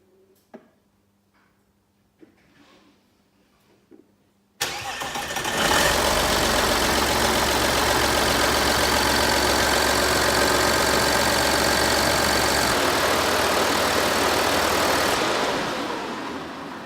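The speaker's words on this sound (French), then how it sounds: "Et maintenant, il n'y a plus qu'à allumer la voiture." An Audi A4 V6 TDI diesel engine cranks and catches after a few quiet clicks and taps, then settles into a loud, steady idle that holds for about ten seconds before easing down slightly.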